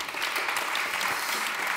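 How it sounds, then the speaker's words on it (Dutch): An audience at a Dutch concert event gives warm, sustained applause, dense clapping filling the room evenly from start to finish with no voices over it. "Ik geef een heel hartelijk applaus."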